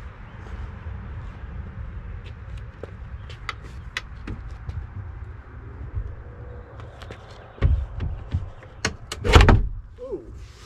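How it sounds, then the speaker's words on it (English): Audi Q7 door being lifted off its hinges in a repair shop: low background rumble with scattered light clicks and knocks, then a few louder metallic clunks and a sharp bang near the end, close and without talk. "the theory is I should be able to lift up and the door just comes off"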